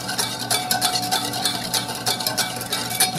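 Lemon juice and olive oil whisked into a marinade, making a continuous rapid clatter and scraping of a whisk against a bowl, close and fairly loud with no talk.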